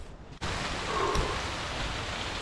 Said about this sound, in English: I ended up getting stuck in the pouring rain and the lightning